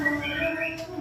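Chirping from a large male trotol songbird, a steady run of close, bright calls over about a second, with people murmuring faintly nearby.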